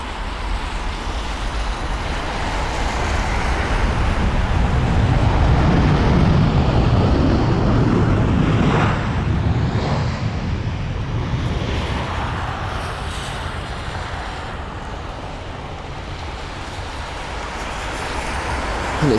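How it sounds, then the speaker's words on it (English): An Aer Lingus Airbus A320-200 at London Heathrow rumbles as a broad, steady jet roar, swelling to a peak and then easing slightly while holding at a moderate distance throughout. "It's the Aer Lingus A320."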